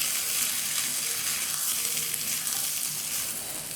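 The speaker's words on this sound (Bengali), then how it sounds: "চালটা তেলের সাথে ভালোভাবে ভাজতে হবে।" Egyptian rice fries in oil with browned onions in a pot, giving a loud, dense, even sizzle that holds steady throughout with no talking.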